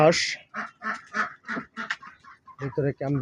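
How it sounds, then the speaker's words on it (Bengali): Khaki Campbell ducks on a farm, quacking in a quick series of loud, close calls with short gaps, several overlapping honks at the end. "এখানে ক্যাম্বেল হাঁস"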